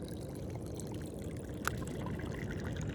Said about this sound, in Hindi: कितनी खूबसूरत नदी है और इसकी आवाज़ सुनिए आप